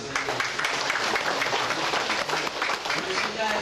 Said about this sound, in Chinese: 以热烈掌声